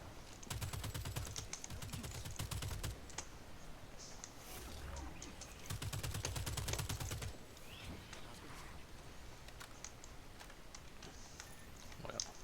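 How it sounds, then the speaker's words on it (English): Explosions and rapid gunfire in the video game Second Extinction come in two dense bursts of crackling shots, separated by quieter stretches of scattered game effects. "We don't need to look at the explosions."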